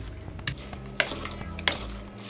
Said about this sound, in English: Mix it slowly.